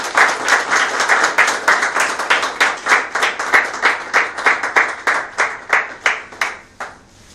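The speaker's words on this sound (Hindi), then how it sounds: "जोरदार तालियां हो जाए." An audience at an orientation and training program in Ahmedabad claps in a strong, rhythmic unison, the beats steady and loud until they trail off near the end.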